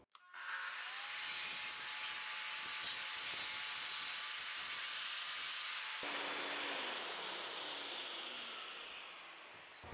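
Saw cutting through mosaic floor tile in a bathroom, a loud continuous grinding hiss for several seconds that shifts tone midway as the blade bites, then fades as the cut ends.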